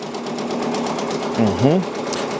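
A Brother Persona PRS 100 embroidery machine stitches out a patch with a fast, steady mechanical whirr close by, and a brief tonal squeak partway through.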